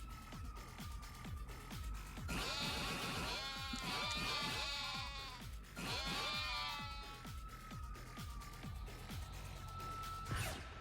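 Sheep in Yakuza 7 bleat in repeated wavering bursts over a steady electronic hum and rhythmic background music, fairly loud throughout.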